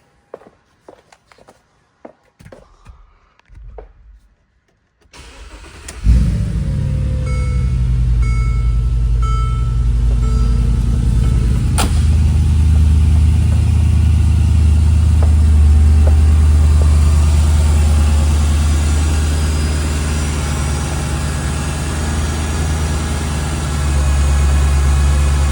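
A 2013 Mercedes G550 engine cold-starts after a brief crank, then settles into a steady, loud, low rumbling idle that runs on alone without speech, heard close up.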